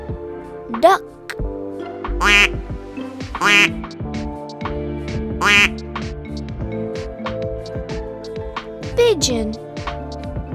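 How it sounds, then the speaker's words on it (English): A duck quacks several times at irregular intervals, loud and close, over a steady musical background. "Duck."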